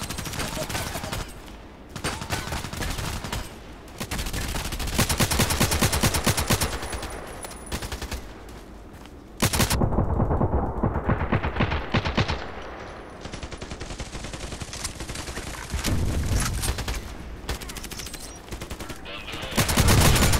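Sustained automatic gunfire from the online shooter Contract Wars, loud and dense for about twenty seconds, with rapid bursts, brief lulls and renewed volleys.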